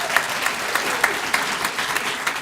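Audience applause at a city council inaugural meeting for Silverstream Primary school children, a loud, steady round of clapping with a few sharper individual claps standing out.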